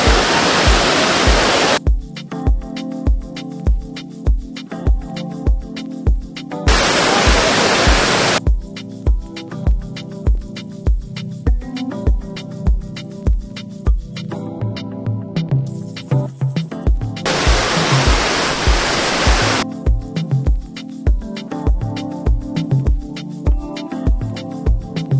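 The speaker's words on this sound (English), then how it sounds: "spend an hour in one of Europe's most impressive waterfalls." Roaring waterfall near Mostar, Bosnia, a loud, steady wash of falling water that continues throughout, with no talk over it.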